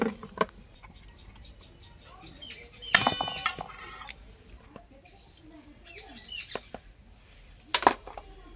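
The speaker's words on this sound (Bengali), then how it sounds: "এবারে এই জামবাটির মধ্যে আমি দু চামচ ময়দা দু চামচ কর্নফ্লাওয়ার নিয়ে গুলিয়ে নেবো" A spoon taps and clinks against a bowl while flour and cornflour are mixed, in short irregular bursts with quieter stirring between, close but fairly faint and with no speech.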